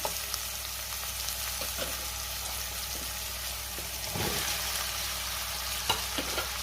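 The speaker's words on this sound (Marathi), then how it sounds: "आता त्यातच आपल्याला बटाटा घालायचा आहे" Potatoes fry in a pan with red chili powder and garam masala for a dry batata bhaji, giving a soft continuous sizzle with occasional stirring scrapes and clinks, close but fairly quiet and without talk.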